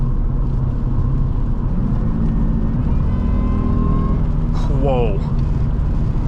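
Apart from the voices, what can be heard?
2003 Jaguar S-Type R accelerating on the road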